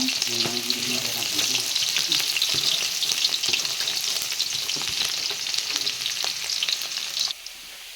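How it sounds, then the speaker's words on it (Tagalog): Onion, garlic and ginger hit hot oil and sauté with a loud, bright, continuous sizzle close by, with faint stirring. The sizzle drops away abruptly just before the end. "Pinakulo na natin ang ating mantika. Lalagay na natin ang ating sibuyas, bawang at luya."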